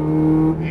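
Ferrari 430 Scuderia V8 engine pulling hard at full throttle on a cone-marked course, a steady strong engine tone held close and loud for under a second.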